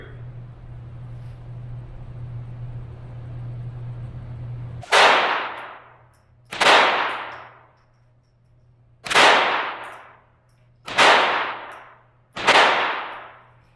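A hum runs first, then five loud, sharp shots from an S&W M&P 22 pistol firing .22 LR at steel targets ring out one by one, about a second and a half to two seconds apart, each with a short ringing tail.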